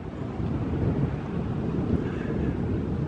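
Cold wind in Portland, Maine, rushing and buffeting against the microphone as a steady, broadband roar with gusty swells, loud and close, with no other clear sounds.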